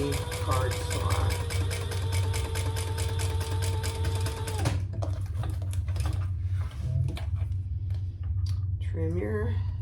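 A sewing machine top stitches a small fabric wallet in a rapid, even mechanical chatter for several seconds, then stops, followed by faint handling noises and a brief voice.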